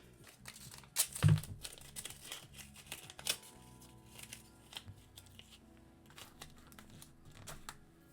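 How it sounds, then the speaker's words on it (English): Small pieces of tape are torn and handled to back a jigsaw puzzle, giving soft crinkling, tearing and sticky peeling sounds in irregular close bursts with one sharper thump early on. "I'm struggling making these super simple tape pieces"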